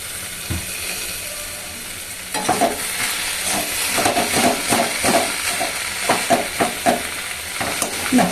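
A vegetarian curry is stirred in a sizzling pan, with a spoon scraping and clacking against the metal in a steady, repeated rhythm. The steady sizzle stays underneath the spoon strokes, and nobody talks.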